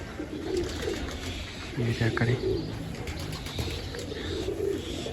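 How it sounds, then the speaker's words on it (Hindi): Pigeons coo and take off with brief wing flaps at a rooftop loft, the bird sounds mixed under someone speaking in Hindi over steady background noise. "ये उड़ गए हैं कबूतर, ये कबूतर न्यू है कबूतर सारे तकरीबन"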